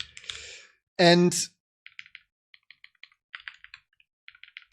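Computer keyboard typing, a series of quick, light clicks in irregular bursts, heard close after a brief spoken word and a sigh-like breath.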